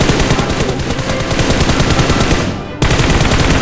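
In PUBG Mobile, automatic weapons fire in a dense, continuous burst of rapid shots. The shooting cuts out for a split second near the end, then resumes at full loudness.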